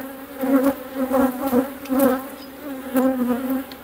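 Honeybees buzzing around a hive during queen rearing, a steady close droning hum that swells and fades in rhythmic waves, with no voices.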